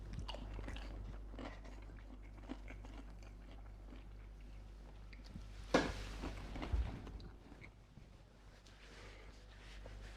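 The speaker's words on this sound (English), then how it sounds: "Satisfying crunch on the breading" Crunchy breaded Aldi chunky pollock fish fingers bitten and chewed close up, a few soft crunches and chewing sounds over a steady low hum, with one louder crunch midway.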